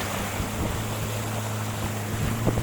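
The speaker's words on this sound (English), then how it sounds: "Sitting on the longboat, you'll feel very close to the river water." A wooden longboat motors along a river in Mulu, Malaysia, with a steady engine drone, rushing water and wind noise, close and continuous throughout.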